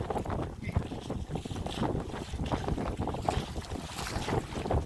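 A Seahawk Hurley H22 sailboat moving at about 3.5 knots under just a foresail while towing a dinghy, heard as steady, close wind buffeting mixed with continuous water rushing and slapping along the hull.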